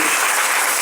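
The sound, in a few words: audience applause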